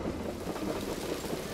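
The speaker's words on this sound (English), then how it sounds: "it's raining. I'd better hurry back." Rain falls in a dense steady hiss with a low rumble of thunder beneath it, close and continuous throughout the short stretch, in an animated children's cartoon scene with no talking.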